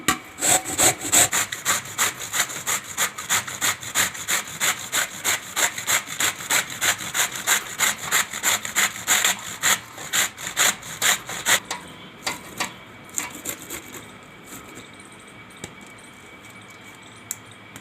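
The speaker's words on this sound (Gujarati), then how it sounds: "એમાં આપણે કોબીને ખમણવાની છે આ રીતે જો આ રીતે ઝીણું ઝીણું ખમણી લેવાનું છે" Cabbage is grated finely by hand on a grater in a home kitchen, with fast, even rasping strokes close by for most of the time before they slow to a few scattered scrapes and fall quiet.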